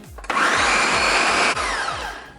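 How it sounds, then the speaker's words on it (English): A blender blending watermelon whirs loudly at high speed for about a second, its pitch rising then dropping as it slows and stops. "we're just gonna place all this in the blender and blend it up"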